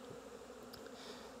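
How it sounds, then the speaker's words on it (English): Honey bees robbing drawn-out honey supers outdoors, a faint steady buzzing hum of many bees at a distance, continuous throughout the short moment. "These bees will rob them out pretty quick,"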